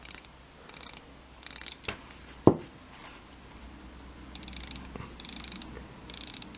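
Bezel on a Seiko Monster SRP307 automatic diver watch turned by hand, giving a series of small, close ratcheting clicks in short bursts with pauses between, plus one sharper click near the middle.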